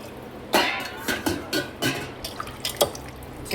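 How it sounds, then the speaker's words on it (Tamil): Water poured in small splashes and drips onto chicken in a pot for biryani, several irregular close splashes and trickles against a quiet background. "இப்போ சிக்கனை வேக வைக்க போகிறேன். இதில் கொஞ்சம் தண்ணி ஊற்றிக்கிறேன்."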